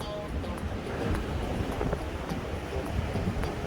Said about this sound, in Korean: 어 바람 많이 부네요 바람 소리가 좀 들어가도 이해를 좀 부탁드리도록 하겠습니다